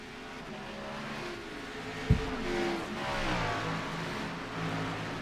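Race car engines in a sim racing game at Watkins Glen, heard faintly as rising and shifting revs while a car accelerates, with a brief sharp burst near the middle.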